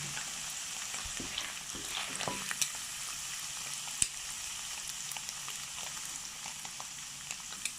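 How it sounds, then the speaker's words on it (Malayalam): Small shrimp fry in hot coconut oil with a steady, fairly quiet crackling sizzle, broken by a few sharp clicks of stirring or scooping. No one speaks. "ഈ ബാക്കിയുള്ള ചെമ്മീൻ നമുക്ക് ഇതുപോലെ വറുത്ത് കോരാം."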